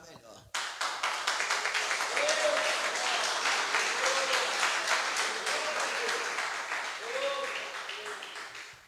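Church congregation applauding during a sermon, steady sustained clapping that starts abruptly and fills the room, with voices calling out over it.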